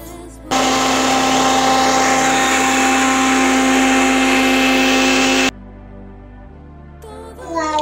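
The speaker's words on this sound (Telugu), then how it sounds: "మిక్సీ పట్టేసుకొని చూపిస్తున్నా చూడండి" A kitchen mixer grinder whirs loudly at steady high speed, blending juice smooth for about five seconds, then cuts off abruptly, leaving quiet room noise.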